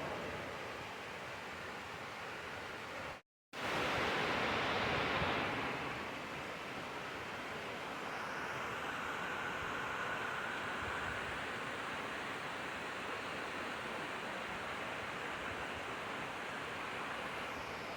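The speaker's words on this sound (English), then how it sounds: "Ramona Falls. What a gorgeous waterfall." Steady roaring rush of Ramona Falls, Oregon, broad and constant, with a brief dropout near the start and faint wind over it.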